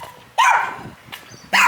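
A dog barks at a delivery driver, two sharp close barks with a short yelp between them, loud and alone.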